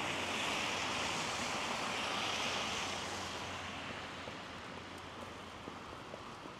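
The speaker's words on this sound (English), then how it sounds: "the wind does kick up every now and again and try and turn my umbrella inside out" Wind gusting along a snowy Toronto street during the season's first major snowfall, a broad steady rushing roar buffeting the microphone, loud at first and easing slightly toward the end, with no voices.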